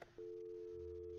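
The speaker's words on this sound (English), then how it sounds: "This is just a ringtone." A phone ringtone in the Nancy Drew game The Phantom of Venice sounds as a clean, steady electronic tone that starts after a brief click and holds evenly, with a lower tone joining near the end.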